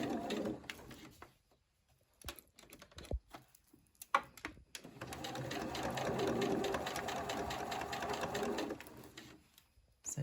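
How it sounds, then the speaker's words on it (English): A domestic sewing machine stitches bias binding along a shirt collar, first in short stop-start bursts, then in a steady, fairly quiet rapid whirring run of several seconds, close by. "we're going to machine from one side to the other"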